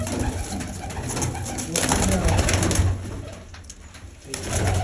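A young Shikri pigeon coos in soft, repeated calls close by, set against outdoor background noise.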